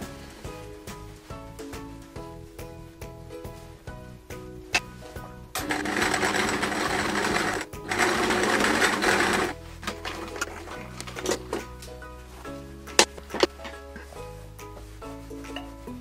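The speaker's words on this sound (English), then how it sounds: "I'm going to sew the whole thing together." A sewing machine stitches quilt square pieces for a Peter Rabbit patchwork quilt. Its rapid mechanical chatter comes close and clear in bursts, with pauses and a louder buzzing stretch in the middle, over quiet background music.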